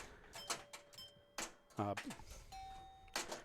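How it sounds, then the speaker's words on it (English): Pinball chimes triggered by score relays in a pinball machine, a few separate bright ringing tones with sustained decays, mixed with clicks and someone talking. "so the chimes are actually triggered when you call a... well, basically a score 10 relay"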